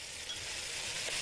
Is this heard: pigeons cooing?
no